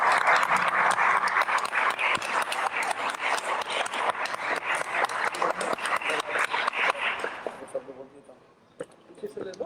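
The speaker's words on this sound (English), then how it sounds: "Clap your hands." A lecture audience claps hands in a dense, sustained burst of many overlapping claps at a Delhi spiritual talk, loud and steady before thinning out and fading near the end.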